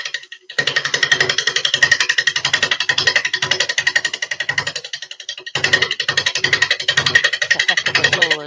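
A half-inch bowl gouge with a long bevel cuts a wooden bowl spinning on a lathe, giving a loud, rapid chattering rasp that runs steadily, pauses briefly midway, then resumes.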